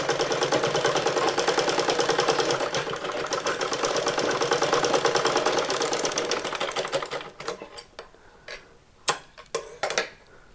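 A sewing machine stitches a blouse with a fast, even mechanical chatter for about seven seconds, then slows into a few separate clicks and short bursts as the run ends.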